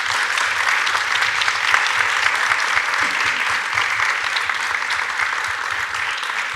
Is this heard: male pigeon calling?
no